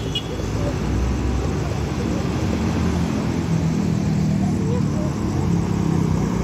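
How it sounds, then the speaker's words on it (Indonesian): A night bus passes on the road at the Lambaru roundabout, a loud, continuous low rumble of engine and tyres that holds steady throughout. "melintas bus Pemto Malam"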